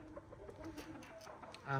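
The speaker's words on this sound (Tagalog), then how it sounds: "panoorin muna natin tong cute na manok" A tame pet chicken clucking and cooing softly nearby, a few quiet, low murmurs in under two seconds, with a louder burst at the very end.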